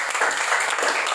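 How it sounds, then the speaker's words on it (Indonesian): A church congregation claps hands together in a dense, steady burst of applause, brief and fairly loud. "Yang bersukacita tepuk tangan"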